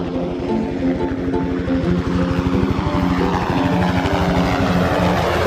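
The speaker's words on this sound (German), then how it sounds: "Schau mal, der Hubschrauber fliegt davon." A helicopter's chopping rotor thrums steadily with a droning engine, holding a constant level rather than clearly fading.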